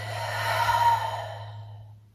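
A single long exhale during morning yoga, a soft breathy sigh that swells and then fades away over a low background hum, with no words spoken.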